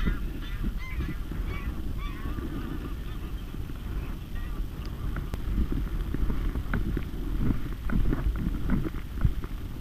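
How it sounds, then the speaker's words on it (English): Several geese honk repeatedly at a moderate distance over a low, rumbling outdoor background, their calls overlapping in bursts. "A couple of geese."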